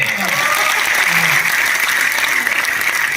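Dense, steady applause from the audience at a Hindi comedy poetry gathering, continuous and loud throughout, with faint voices mixed in.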